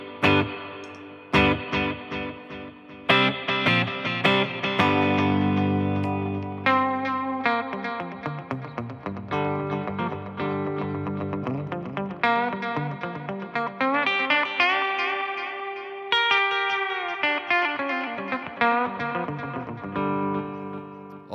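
An electric guitar plays through a delay pedal placed before a reverb pedal, giving clear struck notes and chords with echoing repeats and long washy tails, loud and alone without talk.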